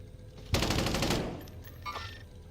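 A sudden burst of rapid automatic gunfire in a military shooter game, loud and close, fading over about a second, followed by a short, fainter electronic chirp.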